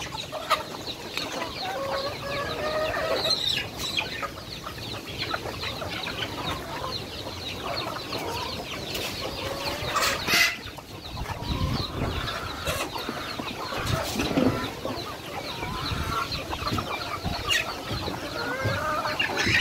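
A group of farm chickens clucks and squawks continuously at close range, with busy overlapping calls as the birds beg for feed.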